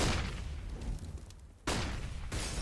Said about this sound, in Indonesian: Tembakan kedua tetapi miss.